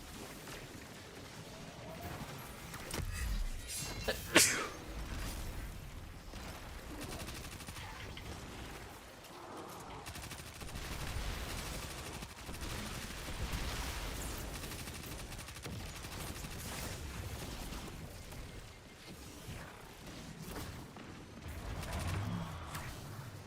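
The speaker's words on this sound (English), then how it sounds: "Who's shooting me?" Gunfire aimed at the player in a video game, a dense, continuous rattle of shots with one sharp louder crack early on, steady and fairly distant over a noisy background.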